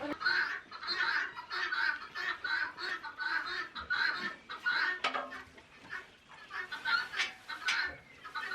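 Several chickens on a homestead cluck and murmur nearby in an uneven, continuous chatter, with occasional sharper squawks.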